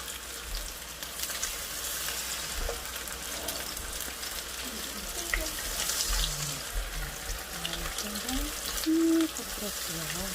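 Oil bubbles and sizzles steadily as shrimp tempura fries, a continuous crackling hiss with a few faint background sounds.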